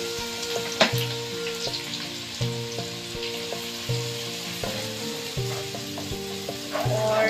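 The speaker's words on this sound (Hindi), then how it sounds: "अब इसमें मैं अनियन जो है वो फ्राई करूँगी" Onions fry in hot oil for a chana dal keema, giving a steady, close sizzle broken by regular clinks and scrapes as the pan is stirred.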